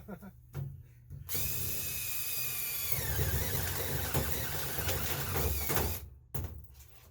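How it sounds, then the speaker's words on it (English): A power drill whirs steadily for several seconds on low speed, its pitch dropping midway as it bites in, with brief handling noises before and after, during a furnace install. "That drill will manhandle if you get down in low speed."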